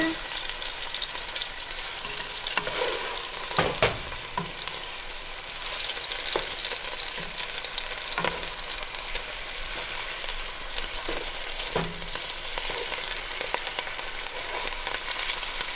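Beef sizzles steadily in oil in a pan on a lowered stove, a continuous crackling fry with occasional louder pops and scrapes as pieces are turned.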